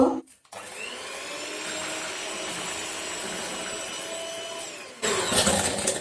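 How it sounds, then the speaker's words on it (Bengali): An electric beater whips egg whites with sugar, a steady whirring motor hum that starts after a short pause and runs evenly before a louder burst near the end, with no talking. "আমি এখন একটা ইলেকট্রিক বিটারের সাহায্যে বিট করে নেব"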